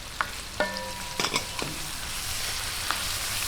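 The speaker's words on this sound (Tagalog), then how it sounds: "Hintayin lang po natin magisang-gisa yung kamatis at talagang lumambot bago natin ilagay yung chicken." Chopped tomatoes sauté in a frying pan with onions for Filipino chicken guisantes, giving a steady soft sizzle with a few sharp utensil clinks and stirring scrapes early on, close and alone.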